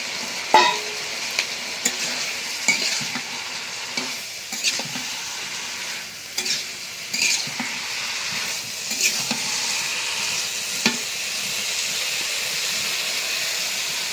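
Potatoes fry in an open pan while being stirred, a steady sizzle and hiss under repeated scraping and clattering spatula strokes, close and moderately loud.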